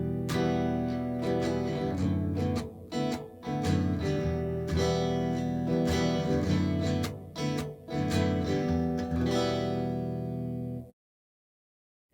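An acoustic guitar strummed in rhythmic chords, close and fairly loud with brief gaps between strums, ringing alone before stopping abruptly.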